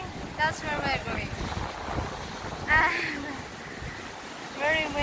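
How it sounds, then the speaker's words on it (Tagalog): Strong wind buffets the microphone on the coast near Tamarit Castle, with waves rumbling underneath and bursts of voices talking over the roar. "Very windy and wavy."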